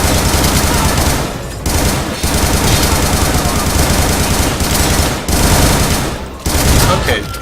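Shotgun blasts from the video game Butcher pound loudly and almost continuously in heavy, dense volleys, broken by a few short gaps, with no talking.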